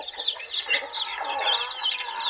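A group of young chicks, about eight days old, peep continuously and densely with some hen-like clucking, close and steady throughout with no talk.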